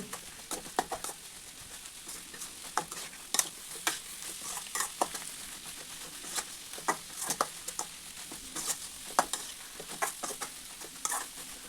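Bitter gourd stir-fry sizzles steadily in a pan while a spoon stirs and scrapes through it in quick irregular strokes, close and fairly quiet, with no voices.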